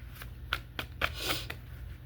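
Tarot cards shuffled by hand, a short run of crisp riffling slaps and flicks over a low steady hum, close and fairly quiet, with a few sharper card snaps standing out.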